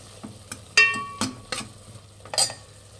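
Turmeric is stirred into tomato masala frying in a pan for a thin lentil rasam, with several distinct metallic spoon scrapes and clinks over a light sizzle. The sound is close and unhurried, with no voices.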